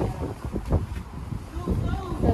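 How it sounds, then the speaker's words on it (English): Gusty outdoor wind rumbling and buffeting against the microphone in uneven surges, heard faintly beneath people talking nearby. "Yeah, like it is so windy out here."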